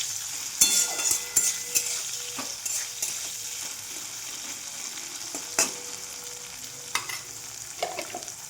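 Capsicum frying in a pan for an egg and capsicum dish: a soft, steady sizzle, broken by sharp clinks and scrapes of stirring, close up and without talk.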